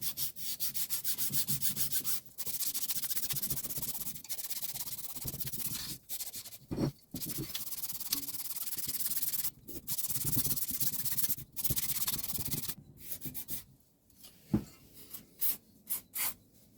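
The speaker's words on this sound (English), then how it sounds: "let's clean this flywheel first." Steady rubbing and scrubbing on the flywheel of a Victa lawnmower's Tecumseh engine, with continuous scraping strokes broken by short pauses and a few quick strokes near the end, close and moderately loud with no talk.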